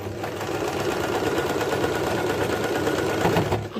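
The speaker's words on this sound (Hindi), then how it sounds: "और डबल सिलाई इस पर डाल देनी है।" Sewing machine running steadily while stitching a double seam on a long frill shrug, a close, continuous rapid mechanical whir without pause for the whole stretch.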